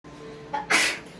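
A single sharp sneeze bursts out after a short intake of breath, close and fairly loud.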